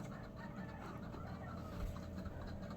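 A chicken gives soft, faint clucks in short irregular bursts over a steady low hum, heard alone without talk.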